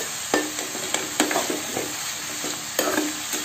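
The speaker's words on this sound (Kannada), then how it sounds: "ಬರೀ ಇದೇ ತಪ್ಪಲ ಹಾಕ್ಕೊಂಡು ಅಷ್ಟೇ ಫ್ರೈ ಮಾಡಿಕೊಡ್ರಿ" Leafy greens frying with dry chilli powder in a pan, a loud, close sizzle broken by repeated sharp clacks and scrapes of a spatula stirring, with no talking.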